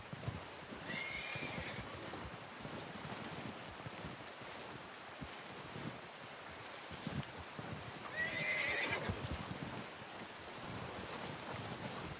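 A horse neighs twice over steady wind and surf-like noise, with soft hoof clops and shuffling throughout.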